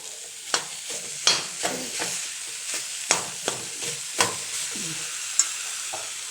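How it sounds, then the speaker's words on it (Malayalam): A ladle repeatedly stirs and mashes boiled jackfruit seeds in a pan, making rhythmic knocks and scrapes over a low, steady sizzle. "ഈ സമയത്ത് നമുക്ക് തവി വെച്ച് നല്ലപോലെ ഇങ്ങനെ കുത്തി ഇളക്കാൻ പറ്റും"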